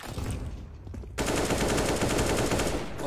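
A sustained automatic burst of gunfire from the game CS:GO, loud and dense, comes after a shorter rattle of shots and rolls on continuously to the end.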